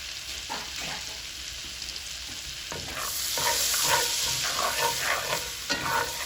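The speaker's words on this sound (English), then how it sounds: "I'm going to add this garlic. And that's fresh chopped garlic that I actually did myself." Fresh chopped garlic hits a hot frying pan and sizzles steadily, the frying growing louder partway through, with stirring scrapes and small crackles up close and no voices.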